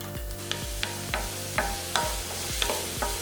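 Zucchini and onion stir-frying in olive oil with garlic in a pan over medium-low heat, a steady close sizzle broken by regular scraping strokes of a spatula, about one every half second, with no voices.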